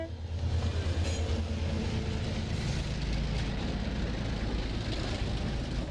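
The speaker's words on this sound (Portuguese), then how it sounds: "Essas imagens são do trem que passa pela cidade de Serra Talhada," A freight train rolls through Serra Talhada, Pernambuco, with a loud, close, continuous rumble of wagons and a deep low drone, steady throughout and without talk.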